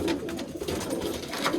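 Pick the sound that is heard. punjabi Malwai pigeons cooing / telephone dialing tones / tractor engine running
punjabi Malwai pigeons cooing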